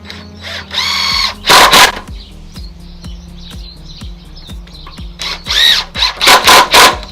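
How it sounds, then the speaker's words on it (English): A drill bores pocket holes through wood held in a pocket-hole joiner jig for a set of bedroom shelves, giving short loud whirring bursts separated by a regular series of clicks, with no talk. "put it back in the joiner jig and put some pocket holes on the top here"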